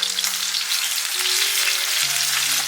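Pork belly, ginger, garlic, garlic stems and pickled greens stir-fry in a hot pan, giving a dense, loud, continuous sizzle and crackle at close range with no speech.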